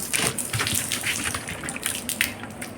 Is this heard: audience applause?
no